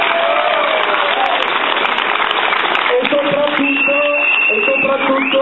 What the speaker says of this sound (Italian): io vorrei da voi un grandissimo applauso